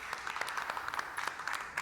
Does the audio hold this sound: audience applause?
yes